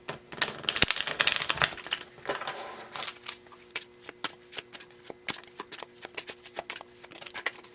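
Tarot cards are handled and laid out, opening with a dense burst of shuffling riffles, then settling into a steady patter of light clicks and taps as cards are placed, close by with no talk.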